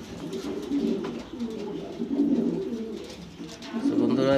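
Grizzle-coloured pigeons coo in soft, throaty, repeated phrases close by, against faint background noise.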